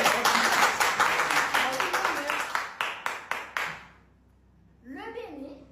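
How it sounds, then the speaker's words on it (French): An audience bursts into dense applause with cheering, its sharp claps thinning out and fading to near silence before a voice starts speaking at the end. "Applaudissez pour ça."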